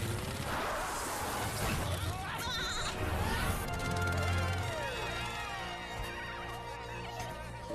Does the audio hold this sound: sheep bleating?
yes